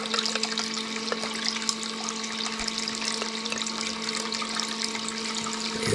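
Water trickles and runs steadily through a small gold concentrate cleanup sluice, a constant close liquid wash with a faint steady hum beneath and no talking.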